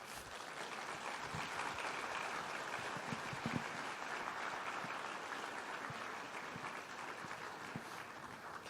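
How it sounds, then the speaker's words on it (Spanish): Sustained applause from a church assembly audience greeting Monseñor Víctor at a diocesan pastoral gathering, a steady dense clapping that holds at even loudness throughout with no talk over it. "Está llegando aquí Monseñor Víctor, le damos un aplauso de bienvenida."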